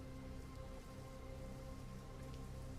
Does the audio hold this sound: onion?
no